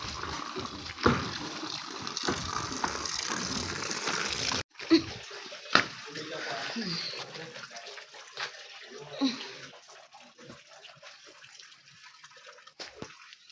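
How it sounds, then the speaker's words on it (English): Water pumped at a home in Port Harcourt rushes steadily for about four seconds, then cuts off, leaving scattered splashes, drips and light handling noises nearby. "We are done pumping the water."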